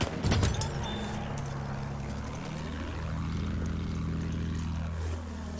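A propeller airplane drones steadily close by in a multiplayer shooter game, its engine tone sweeping in pitch as it passes, with a louder burst at the start and players talking over it.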